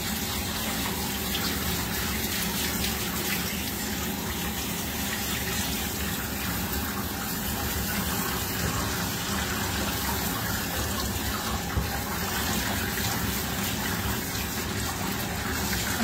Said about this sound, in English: I do like to rinse for a good couple of minutes.